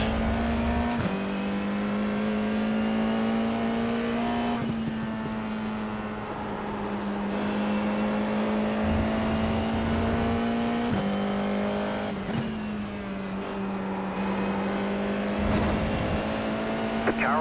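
Formula 4 race car engines at Monza in the game iRacing, a loud, steady high-revving drone with brief dips at gear changes and throttle lifts, other cars faintly around, with occasional talk underneath.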